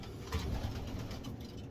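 Young racing pigeons coo faintly in short, soft, low murmurs against quiet background noise.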